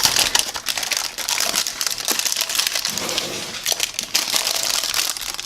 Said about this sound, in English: And it's loud because there's parchment paper down.